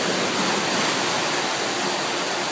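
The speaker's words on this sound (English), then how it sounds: "This is salt water here, but fresh water, falling from above." Fresh water pours from above inside a dark seaside tunnel under a tsunami wall in Japan, making a steady, dense splashing rush that fills the space without pause.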